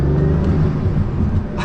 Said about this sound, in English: The noises you get into the cabin from that engine and those turbos.